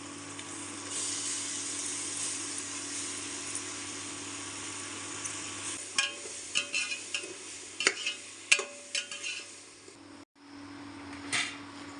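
Ginger garlic paste is stirred and fried in a pan for veg biryani, with a faint steady sizzle under a series of scraping stirs that grow more frequent partway through.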